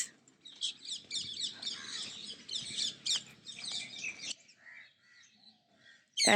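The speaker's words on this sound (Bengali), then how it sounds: "এক ঝাঁক টিয়া পাখি বসে আছে এখানে।" A flock of parakeets perched near a temple chatters in rapid, overlapping high-pitched calls and squawks, fairly close and busy for several seconds before thinning to a few scattered chirps.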